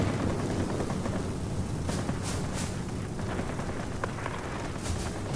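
A Ki-94-II fighter aircraft in the video game World of Warplanes fires its guns in dense rattling bursts, buried under a constant, loud engine roar with no pauses.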